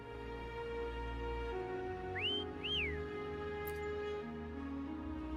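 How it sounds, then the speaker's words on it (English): A game character in Wuthering Waves whistles to call Foam, giving two short rising-and-falling whistle notes over soft ambient music. "Try whistling."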